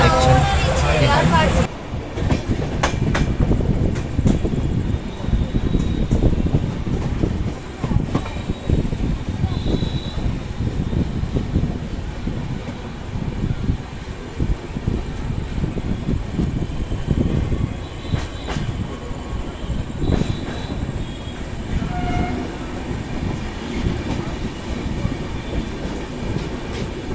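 Train noise on platform 2 of Rampurhat Junction railway station: a continuous loud rumble and clatter of rail cars with faint squealing and clicking, heard close throughout with voices talking underneath.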